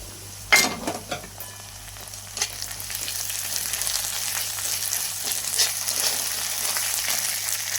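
Ginger garlic chili paste and onions frying in a pan, a steady close sizzle with a few sharp pops and stirring scrapes early on.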